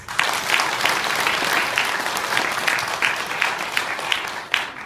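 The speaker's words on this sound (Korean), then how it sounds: "격려의 박수 한번." A Korean church congregation gives encouraging applause for middle and high school students during an evening service, loud, dense clapping from a full room that runs steadily with a few sharper individual claps near the end.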